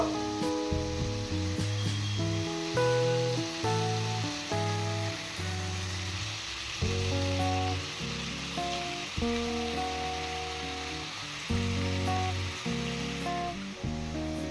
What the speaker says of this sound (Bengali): চিকেনের এক সাইড 2 থেকে 3 মিনিট ভেজে নেব